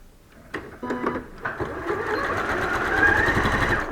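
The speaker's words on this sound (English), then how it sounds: "So we're just going to sew straight down for now" Sewing machine stitching straight down a pressed line on a fabric cuff, starting with a few slow stitches then building into a steady close mechanical whir.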